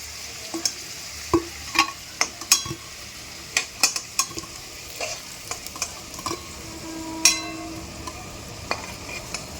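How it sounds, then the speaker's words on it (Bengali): Potato pieces for vegetable fried rice fry in oil until reddish-brown, giving a soft, low hiss broken by frequent sharp crackles and spattering pops at irregular intervals. "আলুটা অলমোস্ট ভাজা হয়ে গেছে লাল লাল করে"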